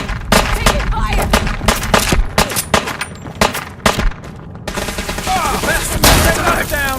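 Heavy gunfire in a Fallout 4 battle, with loud overlapping shots and bursts repeating rapidly through the whole stretch and barely easing near the middle.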